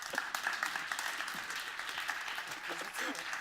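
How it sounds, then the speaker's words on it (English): Audience clapping fills the whole stretch, a dense steady wash of applause from a crowd. "So please give him a big applause, Péter"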